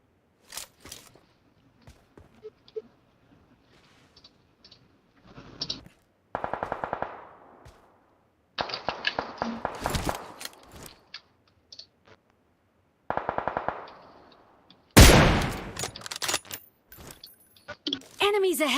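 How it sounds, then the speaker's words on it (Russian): Automatic gunfire in the mobile battle-royale game PUBG Mobile, arriving in several loud bursts of rapid shots separated by short pauses, with the heaviest, closest volley near the end and a voice talking between them. "По мне стреляет."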